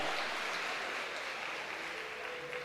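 A church congregation applauds during a worship service, a steady, dense wash of clapping that fills the room without pause, fairly loud and even throughout, with no voices standing out.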